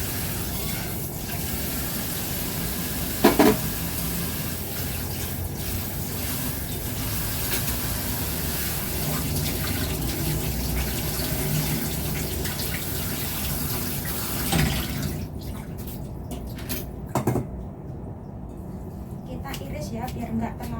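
Water runs steadily from a tap into a sink while food is washed, a constant loud gush with occasional clatter of handling, cutting off near the end.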